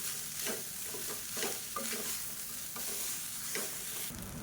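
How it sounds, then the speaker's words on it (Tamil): Curry leaf powder rice being stirred in a pot, a spoon scraping and turning the grains in repeated strokes with a soft sizzling background, no voices. "இப்போ பாருங்கள், நல்லா கிளறியாச்சு"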